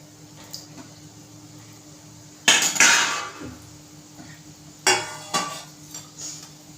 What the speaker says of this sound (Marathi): फक्त चमच्याने असे हलवायचे